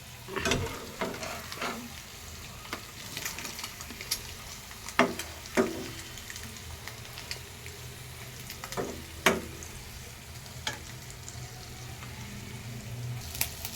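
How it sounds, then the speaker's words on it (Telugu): Maggi masala egg omelette frying in an oiled pan, a continuous crackling sizzle broken by several sharp scraping and turning clicks from a spatula. "ఎగ్ అయితే ఫ్రై అయింది ప్లేట్లోకి తీసుకుంటున్నాను"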